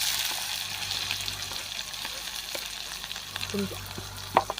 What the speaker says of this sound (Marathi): आता लसूण आपला चांगला तळला आहे आता कांदा टाकून घेऊया आपण